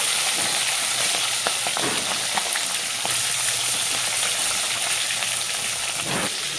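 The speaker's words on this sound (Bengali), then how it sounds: "ভালো করে উল্টা পিঠা ভালো করে ভেজে নিব।" A fish head fries in hot oil in a pan, giving a dense, continuous sizzle with scattered crackles and pops, close and fairly loud throughout.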